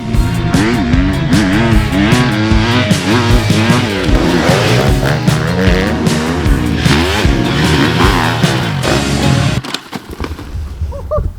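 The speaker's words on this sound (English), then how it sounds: "our most stylish test rider, Ezra Lewis, to ride this bike today" A 2024 Husqvarna FC250 Rockstar Edition dirt bike ridden hard off-road, its four-stroke engine revving loudly and continuously with rapid pitch swings through gear changes, close and dominant, dropping off briefly near the end.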